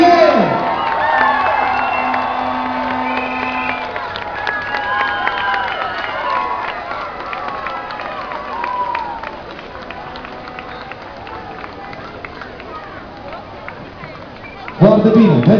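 A large outdoor crowd at a city festival in Turda claps and cheers as the Romanian flag is presented, with steady loud applause and scattered whoops across the whole span, then a fresh burst at the end.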